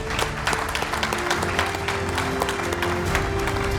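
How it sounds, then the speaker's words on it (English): An awards ceremony audience breaks into sustained applause, many hands clapping in a dense, even patter throughout, with a faint steady tone underneath. "So let's give all these companies a big round of applause."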